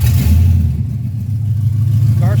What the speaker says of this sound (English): Car starts up and runs